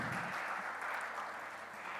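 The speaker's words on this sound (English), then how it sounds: "A big round of applause for them," Audience at a construction summit in the UAE applauds in a dense, steady wash of clapping that fills the short moment without a break, with no voices over it.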